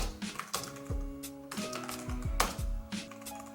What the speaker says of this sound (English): this is a quiet keyboard and here's what it sounds like